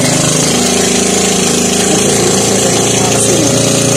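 A boat engine at a river pier runs loud and close, a steady unbroken mechanical drone with a dense, buzzing rattle that never lets up for the whole stretch.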